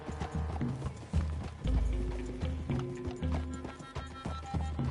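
Horse hooves clip-clopping in a steady rhythm over game music in Red Dead Redemption 2, with a brief louder thump partway through.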